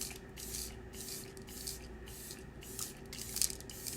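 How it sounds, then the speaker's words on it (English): A limited edition makeup setting spray primer is misted in a series of short, crisp hissing spritzes at an irregular pace, close and fairly quiet, with no talking. "This is one of our limited edition spray primers"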